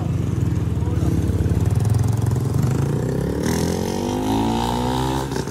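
A Sniper 155 motorcycle engine with bolt-on modifications runs close by with a steady, fast thrum, then revs up with a rising whine partway through.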